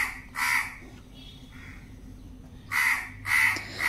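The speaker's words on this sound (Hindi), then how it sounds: "तो ये जो क्रो है ना, कौवा, ऐसे ही चिल्लाता है।" A crow caws in the early morning, three loud harsh calls, one early and two close together near the end, with quieter sounds between.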